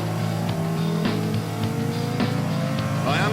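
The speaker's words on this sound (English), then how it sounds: "Masses of wheel spin off the line down to the first corner." A Porsche Carrera GT's V10 spinning its wheels off the line, a loud engine howl rising and shifting in steps with bursts of tire scrabble, steady and close.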